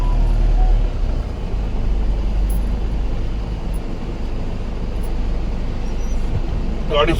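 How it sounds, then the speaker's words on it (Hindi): Trucks and cars sit in a traffic jam on a road. A loud, steady rumble of engines and road noise continues throughout, close by, with voices talking over it. "देखो भाई लग गया जाम।"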